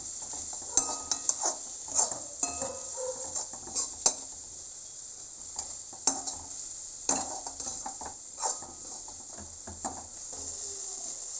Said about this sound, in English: now we are going to add the chopped garlics and add the Pav Bhaji Masala